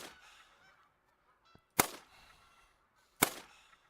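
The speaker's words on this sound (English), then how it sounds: "I guess I might as well try to take a nice shot on this goose here." A goose in the hunting game theHunter: Call of the Wild honks faintly a few times, then two loud sharp gunshots ring out about a second and a half apart, each trailing off briefly.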